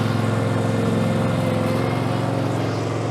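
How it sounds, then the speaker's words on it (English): A Westermann CM2 multifunction machine scrapes a cow yard on a dairy farm, its engine giving a loud, steady, close drone with a constant mechanical hum throughout. "Been a long time since I've scraped a yard, that's for sure."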